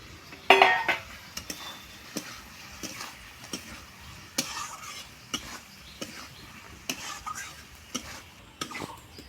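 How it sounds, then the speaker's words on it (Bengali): Fried potatoes go into a pan of rohu fish curry and get stirred, with a spoon scraping and clinking against the metal pan in irregular bursts, faint background sizzle between knocks. "এখন আমি ভেজে রাখা আলু দিয়ে দিব"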